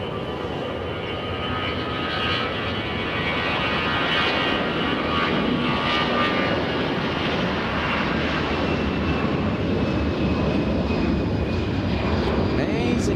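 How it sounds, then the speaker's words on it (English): An Airbus A319 airliner at Los Angeles International Airport gives a loud, sustained jet engine roar with a rising whine, holding steady and close for the full duration, with a voice talking faintly over it. "We have a little A319"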